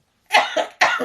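Two close, loud coughs in quick succession, the first drawn out with a short follow-up hack, the second sharp and sudden.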